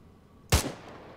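One sharp sniper rifle shot in the ARMA 3 video game during a night sniper mission, a sudden loud crack with a short decaying tail over quiet background.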